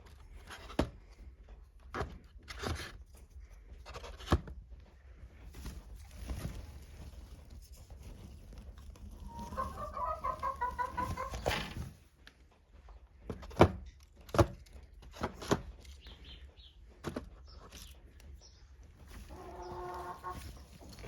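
Hens in a chicken coop cluck softly and sporadically, faint and fairly close, with a few brief flurries of louder clucking. The birds are drowsy after being out in the sun.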